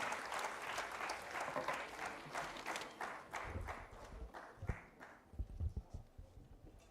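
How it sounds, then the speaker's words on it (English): Audience applause welcoming the chief guest at a formal event, a quiet patter of clapping that thins and fades toward the end, with a few low thumps and bumps mixed in. "let's re-welcome our chief guest with a huge round of applause"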